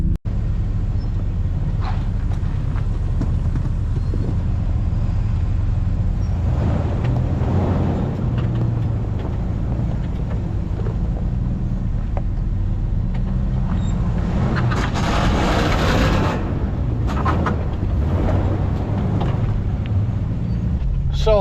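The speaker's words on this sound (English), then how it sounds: "We'll see how this Jeep Rubicon with factory steering linkage handles this trail." A Jeep Rubicon with factory steering linkage works along an off-road trail, its engine a steady low drone throughout with a surge of revving and rattling midway, loud and close, with no talk.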